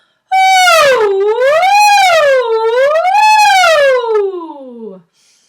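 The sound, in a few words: voice imitating a siren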